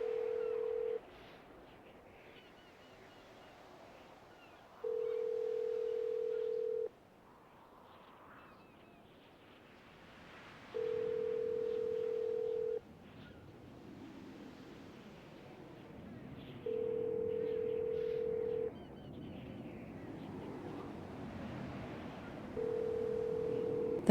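A telephone call ringing out: five steady, identical ringback tone bursts, each about two seconds long, repeat roughly every six seconds over a faint, quiet background.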